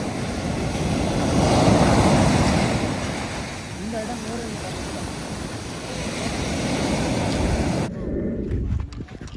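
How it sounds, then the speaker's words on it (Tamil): Calm sea surf washing steadily against the shore on a hazy, misty day, a broad continuous wash that swells and eases, with wind noise on the microphone and a sudden drop-off near the end. "இன்றைக்கு கடல் கொஞ்சம் அமைதியாக இருக்கு"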